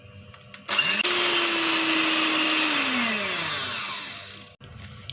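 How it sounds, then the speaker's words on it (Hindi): An electric beater runs at full speed, whipping eggs with half a teaspoon of vanilla essence for a hot milk cake: a loud, steady motor whine with a sudden start, holding even, then slowing and dropping away, with no talk. "एक मिनट बीट कर लिया और बीट करते हुए इसकी जो स्पीड है वो फुल रखी थी"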